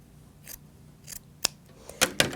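Scissors snip through quilt fabric while trimming a mitered border, a few separate crisp cuts spaced apart, growing louder and quicker toward the end, with no talking.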